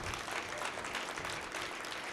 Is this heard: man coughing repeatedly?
no